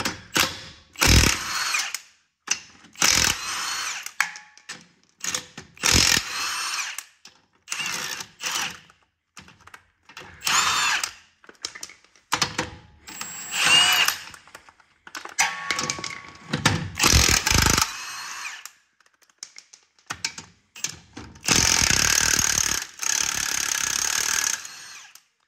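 Power impact tool spinning off lug nuts on a 1988 Ford Ranger, loud repeated short rattling bursts with pauses between them, close by and without talk.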